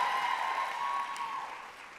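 A Pennsylvania rally crowd cheers and applauds at a Trump event. The sound is a faint, distant wash of cheering that slowly fades out.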